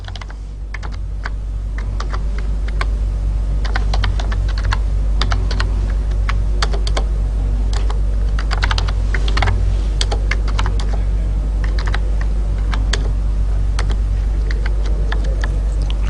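Steady, fast typing on a computer keyboard while entering a C program, with dense overlapping key clicks and occasional sharper key strikes running continuously and close up, with no voices.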